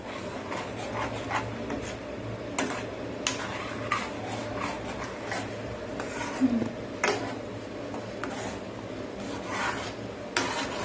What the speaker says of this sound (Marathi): मग आता परत आपण हलवणार आहोत.